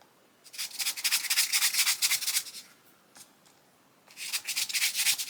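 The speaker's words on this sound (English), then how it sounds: "I'm just going to go through and kind of lighten the marks on here with a kneaded eraser" A kneaded eraser rubs back and forth over pencil marks on watercolor paper, a close, soft papery scrubbing in quick strokes. Two bursts of rubbing are separated by a short pause with a few light touches.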